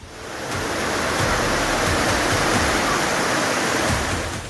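Floodwater rushing after a cloudburst in Khyber Pakhtunkhwa, Pakistan, a loud, continuous roar of churning water that rises quickly at the start and holds steady, with no voices.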